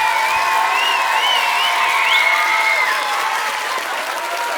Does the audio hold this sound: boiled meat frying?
no